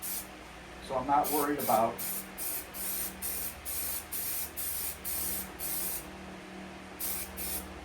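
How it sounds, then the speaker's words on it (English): Spray adhesive glue misted onto a car interior panel being wrapped in leather or vinyl, a series of short hissing bursts in a steady rhythm, with someone talking briefly near the start. "you can always spray a little more glue on top of that later on"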